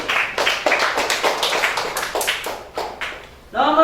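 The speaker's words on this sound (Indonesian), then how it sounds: "tepuk tangan untuk Putri" An elementary classroom in a sixth-grade Islamic religious education lesson claps for a student, a quick, uneven patter of hand claps lasting a few seconds before a voice starts speaking.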